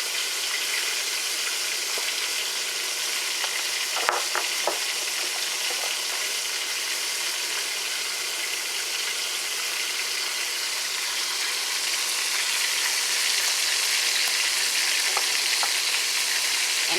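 A sirloin tip roast sears on an induction cooktop set to 425, giving a steady, loud, close hiss and crackle of frying fat that runs continuously with a few faint clicks and no speech.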